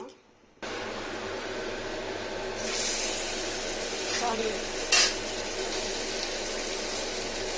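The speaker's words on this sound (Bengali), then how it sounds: "মাছটা যাতে গরম হয় মুচমুচে ভাজা হয়" Small pona carp fish frying crisp in a pan with turmeric and salt, starting after a quiet moment as a close, steady sizzle with scraping stirs and a few louder spattering bursts.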